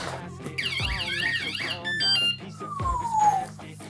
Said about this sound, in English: if anyone tries to mess with this bike, it gets one beep out of nowhere